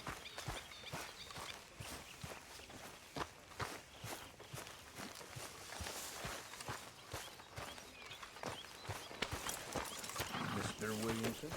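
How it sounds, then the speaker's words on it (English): A horse walks in a video game, with clear, regular clip-clop hoofbeats close by under a voice speaking throughout. "Chega até o cavalo."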